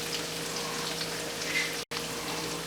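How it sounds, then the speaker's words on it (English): Leftover meatloaf and rice hash seasoned with Creole seasoning sautéing on low heat in oil, giving a steady, soft, rain-like crackle and hiss throughout with one brief dropout near the end. "this has been sauteing on low for a couple minutes"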